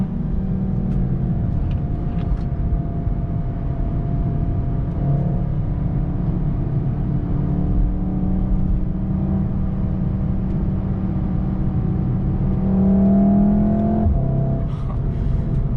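A Mk7.5 Volkswagen Golf R hatchback engine drones steadily up close, its low hum climbing in pitch briefly toward the end as it accelerates, then settling.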